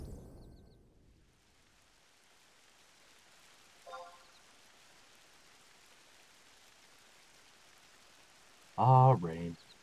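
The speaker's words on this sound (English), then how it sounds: "Ah, rain." Steady soft hiss of rain falls throughout a Mad Max game scene, faint and constant, with a brief clatter near the start and a short spoken word near the end.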